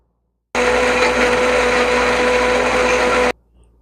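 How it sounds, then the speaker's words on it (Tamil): A mixer grinder whirs loud and steady for about three seconds while grinding mint and coriander into a fine paste, then cuts off abruptly into silence. "இதை இப்போ அரைச்சி நல்லா ஃபைன் பேஸ்ட்டாக எடுத்துக்கிறோம்."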